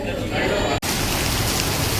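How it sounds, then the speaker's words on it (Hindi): Heavy rain falling, a steady dense hiss of downpour that continues throughout, with a brief dropout partway through. "बारिश देखो कितनी हो रही है, बहुत तेज बारिश हो रही है।"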